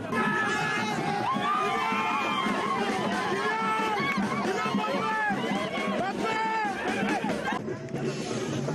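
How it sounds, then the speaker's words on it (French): A huge, dense crowd of fans packs the international airport in Yaoundé, with continuous loud chatter, shouts and excited cheering from many voices close by, a constant roar of hubbub that barely dips. "une foule immense de fans, avides de le voir de près"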